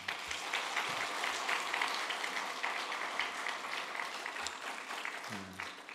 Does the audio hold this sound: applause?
yes